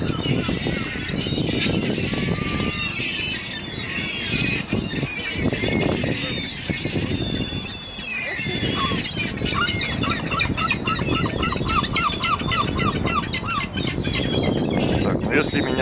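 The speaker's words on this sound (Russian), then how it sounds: "Птички слетелись покушать." Many birds squeal and honk together while feeding in a noisy, busy chorus close by in Howth, Ireland, with a person talking intermittently underneath.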